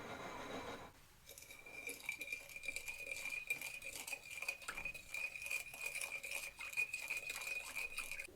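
Dry yeast and sugar mixture stirred with a spoon in a bowl, giving a steady, close scraping and swishing with faint clinks that run continuously after a brief quiet start.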